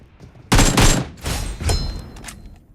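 Gunfire in PUBG, a dense volley of loud shots bursting in at once, followed by further rattling bursts that fade out by the end, with no talk over them.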